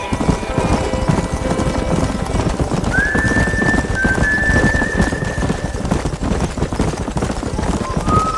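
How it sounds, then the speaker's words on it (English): Wild horses galloping with steady clip-clop hoofbeats in Red Dead Redemption, a loud, continuous rumble of running hooves with a whinny rising through the middle, under a dense game soundscape. "Let's go rope some horses just like in the good old days"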